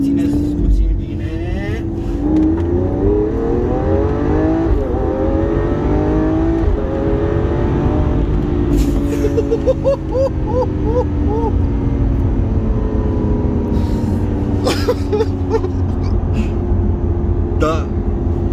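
A Lamborghini Aventador S accelerates hard, its engine note climbing through rising sweeps with a brief gear-change dip, loud and close from inside the car with steady road roar underneath.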